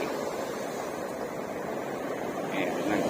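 Sea waves surging against a rocky shore near a sea cave in strong wind, heard as a continuous low, rushing roar at moderate level with a slight swell toward the end.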